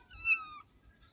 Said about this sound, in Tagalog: ang cute ng ano, mga kuting